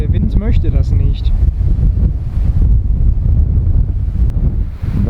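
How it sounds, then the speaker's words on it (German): Strong wind roars and buffets a camera on a motorcycle trip to the North Cape in Norway's Lofoten region, a loud continuous rumble with a voice speaking briefly at the start. "Ich würde die Kamera ja ruhiger halten, aber der Wind möchte das nicht."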